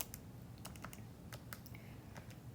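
Quiet, irregular clicking of keys typed on a computer keyboard, a steady scatter of light taps close by with no talking.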